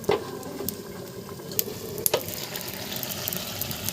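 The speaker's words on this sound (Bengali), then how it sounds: "ভালোভাবে কষিয়ে নেব" Ash gourd and rohu fish sautéing in a pan, a steady sizzle with occasional spatula scrapes and stirring clinks, close and moderately loud with no talking.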